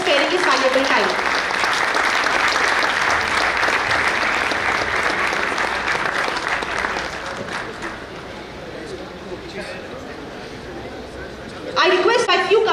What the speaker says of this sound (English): And a big round of applause for Poddar sir for being here and sparing his valuable time.